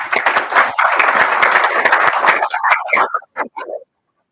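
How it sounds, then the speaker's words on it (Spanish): Audience applause after a talk on agriculture in the Río Negro valley, a sustained burst of clapping that breaks up into scattered last claps before falling silent. "Un aplauso para Jorge"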